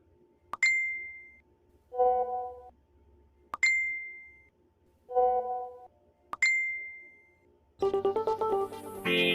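Three bright chat notification dings arrive at a steady pace, each followed by a short tonal chime, before music swells in at the end.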